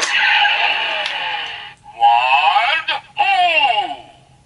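A Kamen Rider Drive toy blaster plays its Shift Wild car effect: a loud electronic burst of whooshing, revving and skidding tones in several bursts, heard up close.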